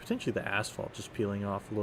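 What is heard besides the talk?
No everyday noise stands out behind the speech.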